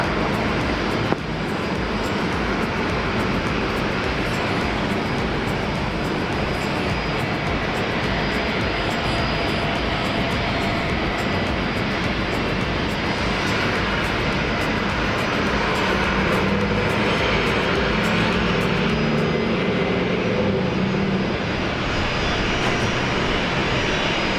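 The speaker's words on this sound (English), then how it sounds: "Emirates A380, line up runway 19 right and wait" An Emirates Airbus A380 jet at Brisbane Airport gives a continuous broadband engine roar, loud and steady throughout with no voices.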